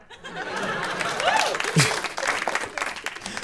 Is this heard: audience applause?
yes